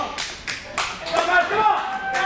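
Wrestling crowd clapping at the start of a pro wrestling match, with sharp separate claps and crowd shuffling, loud and close, mixed with voices.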